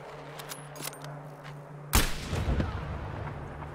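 Gunfire in the video game Battlefield V, a few faint clicks and taps followed by one sharp loud shot with a booming rumbling tail that decays over a couple of seconds.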